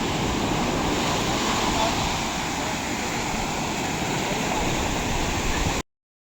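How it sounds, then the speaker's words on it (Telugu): Ocean surf breaks and washes steadily onto the beach at Singarayakonda in Andhra Pradesh, a loud, unbroken roar of rushing water that continues for about six seconds and then cuts off abruptly. "ఇంకెక్కువ పెద్ద పెద్ద అలలు వస్తున్నాయి చూడండి"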